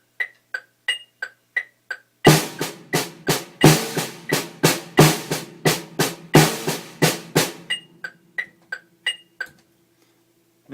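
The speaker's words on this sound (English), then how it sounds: "playing paradiddles along with the metronome on the snare drum would sound like this" Steady metronome clicks tick alone at first, then sharp paradiddle strokes on a snare drum join in a fast even pattern with accented hits, and the clicks continue alone after the drumming stops.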